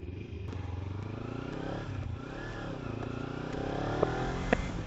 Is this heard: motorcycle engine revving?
yes